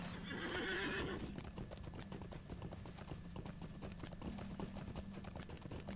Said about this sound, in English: Get back on the horse.